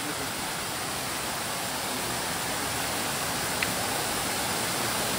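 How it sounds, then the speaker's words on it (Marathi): A waterfall near Chanderai village rushes steadily along a water channel, a constant broadband roar of falling water with no voices. "आणि तुम्हाला आवाज ऐकू येत असेल पाण्याचा."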